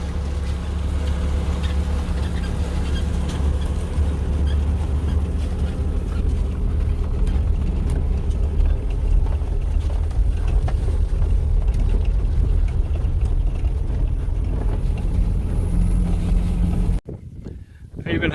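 Vehicle driving across open grassy pasture on newly acquired farm land, a steady, loud engine and rumble continuing throughout, with wind noise, then cutting off abruptly near the end.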